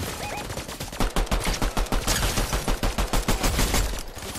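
Rapid bursts of gunfire ring out in a shooter video game, loud, close and rhythmic like automatic fire, continuing almost without pause.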